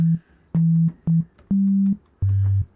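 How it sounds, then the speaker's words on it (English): A low, pure sine-wave synth tone around 150 Hz repeated in short and longer notes with gaps between them, the last one dropping lower in pitch, a drum and bass sub-bass. "So we start with a sine, and you see here this is around 150 Hertz"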